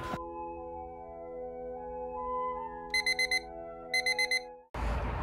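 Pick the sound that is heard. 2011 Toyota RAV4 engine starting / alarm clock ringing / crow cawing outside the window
alarm clock ringing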